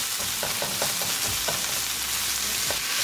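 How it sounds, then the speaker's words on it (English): Chopped onion sizzles steadily in hot oil in a pan, a continuous close frying hiss with a few soft stirring taps and scrapes, no voices. "We're going to cook onion for a couple minutes."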